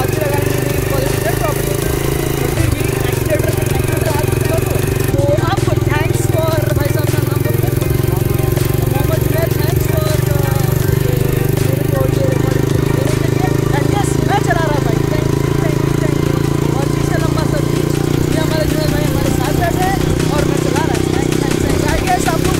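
Motorcycle engine running steadily through a bike ride from a hotel at Cox's Bazar, a constant loud drone with rattling and wind, while people talk over it throughout.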